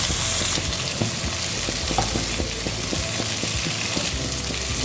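Parwal (pointed gourd) slices in a little oil, spiced masala fry, crackling and sizzling steadily in a pan with light spatula scrapes as pieces are turned, close and continuous.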